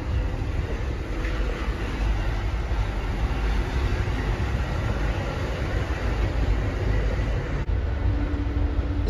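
Amtrak Southwest Chief train running, heard on board: a continuous low rumbling roar of wheels on track with steady rattling, loud and unbroken throughout, with no talk.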